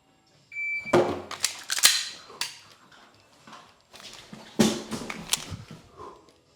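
Short electronic shot-timer beeps sound during dry-fire pistol practice in a home garage, mixed with sharp clicks and bumps. Faint handling noise fills the gaps, and no one speaks.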